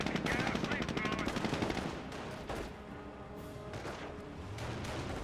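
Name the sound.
MG42 machine gun fire in the video game Company of Heroes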